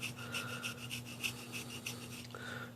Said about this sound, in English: be careful with scraping too hard and getting bigger chunks